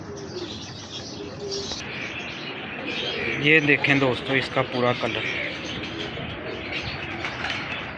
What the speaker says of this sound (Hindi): ये खालस कबूतर हैं